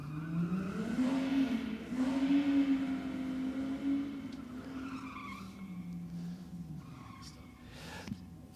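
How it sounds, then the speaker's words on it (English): Ford Falcon with a Barra engine at a Sydney Dragway diesel night, running loud and close as a steady, gruff drone that climbs and dips in pitch, with a faint squeal over the top near the end. "Sounds of a angry little Barra."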